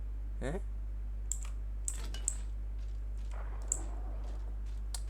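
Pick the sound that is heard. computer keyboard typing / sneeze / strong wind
computer keyboard typing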